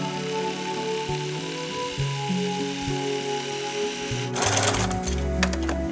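A sewing machine stitches a continuous quilting line in short mechanical runs that shift pace and pitch, close and clear, with a brief burst of rustling fabric handling near the end and no voices.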